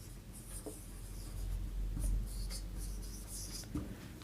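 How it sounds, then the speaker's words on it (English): A pen writing on a job application form, steady close scratching strokes with short pauses and faint scrapes, no talking. "After that you write gender."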